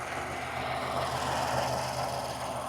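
A Ford Expedition engine runs at a steady idle after an O2 sensor replacement, giving a continuous, even droning hum with no breaks.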